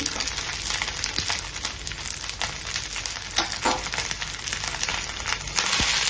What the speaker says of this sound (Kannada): ಇವಾಗ ನೋಡಿ ಒಂದ್ ಸೈಡ್ ಚೆನ್ನಾಗಿ ಫ್ರೈ ಆಗಿದೆ, ಇನ್ನೊಂದ್ ಸೈಡ್ ಕೂಡ ಫ್ರೈ ಆಗಬೇಕು